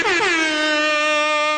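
A loud, close air horn gives one sustained blast of about a second and a half, bright and brassy, with no voices over it.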